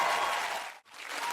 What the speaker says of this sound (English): please give a round of applause one more time for Megan and Wes